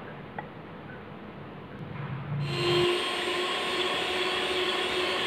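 An electric mixer whirring through cupcake batter, switching on partway through and settling into a steady, close, high-pitched drone.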